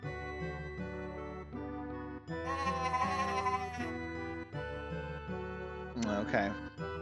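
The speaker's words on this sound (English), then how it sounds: "I want to pet the goat." In the video game Shrine's Legacy, a goat bleats over a steady layer of game music, with a wavering mid-clip cry and another short bleat near the end.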